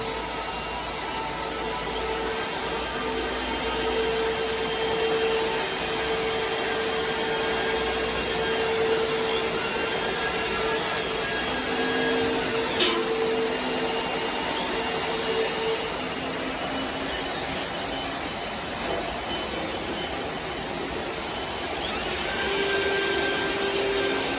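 An automatic CNC welding machine for hydraulic cylinder oil ports starts a test run, giving off a continuous whirring, motor-like drone with faint tonal whines and a single sharp click midway.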